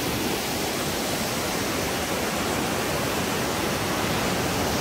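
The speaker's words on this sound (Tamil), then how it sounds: "செம்ம சவுண்டாக இருக்குது தண்ணி சவுண்டு" Water rushes beneath a hanging bridge in Kerala, a loud, unbroken hiss and roar that holds steady throughout with no voices over it.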